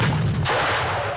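A live round fired from an M119 105mm howitzer by paratroopers, heard as a loud, booming blast that washes through the short clip and rolls off with echoing rumble.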